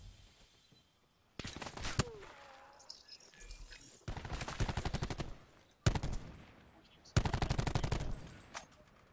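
Rapid bursts of automatic gunfire from Call of Duty: Black Ops 4 come in several loud, rattling volleys during a 2v2 match, with short quieter pauses and brief game effects between them.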